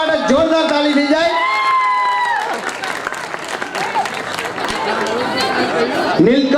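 An audience at a Gujarati lok dayro folk music night in Morabhagal breaks into loud, sustained applause. A held singing voice leads in, then dense clapping from the crowd mixes with chatter and scattered whoops.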